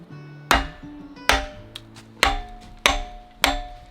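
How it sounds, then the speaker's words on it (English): Six sharp, ringing strikes land about once every second or so, each a heavy thwack of an axe biting into firewood, with a metallic resonance, in the Nagano countryside of Japan. "First time to ever chop some firewood."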